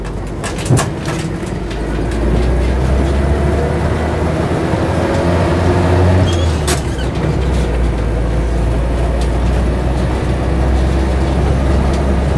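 Inside a Land Rover Series 3 88in soft top driving along a road: a steady low engine drone and rumbling road noise carry on continuously, with a few sharp knocks and rattles early on.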